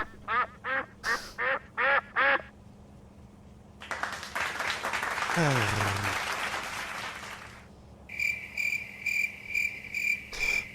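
Repeated duck quack sound effects fire off in quick bursts, a run of short nasal honks at the start and again at the end, with a dense chattering clamor of overlapping quacks and noise swelling in the middle.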